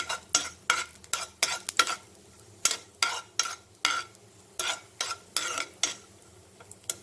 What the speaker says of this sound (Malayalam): പാനിലേക്ക് അണ്ടിപ്പരിപ്പ് ചേർത്ത് ചെറുതായി റോസ്റ്റ് ചെയ്തെടുക്കുക